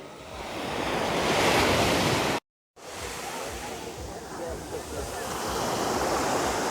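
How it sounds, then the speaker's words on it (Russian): Sea waves at Cleopatra beach in Alanya, Turkey, in September, a steady broad wash of surf with wind noise, rising and falling, briefly cut out midway then continuing. "Да, волны, конечно, немного есть"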